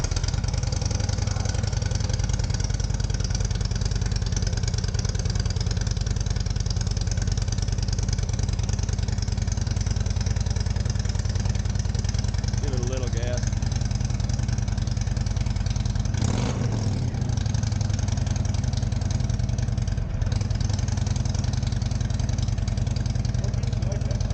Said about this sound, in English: Okay, so this is 22 Chieftain, super cold start.